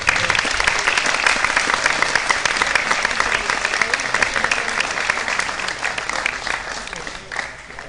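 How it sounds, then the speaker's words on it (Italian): Loud, dense applause fills a hall at an Italian national U23 championship final and awards ceremony, honoring the president and his athletes' staff, steady and sustained before tapering slightly at the end. "io pregherei tutti innanzitutto di fare un grosso applauso al presidente Giorgio Salvador e a tutto lo staff dei suoi atleti"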